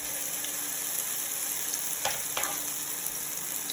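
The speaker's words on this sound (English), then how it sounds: "we're just gonna fry these until they're nice and golden brown" Potato fritters frying in hot oil make a continuous, even sizzle close by, with a couple of brief crackles partway through.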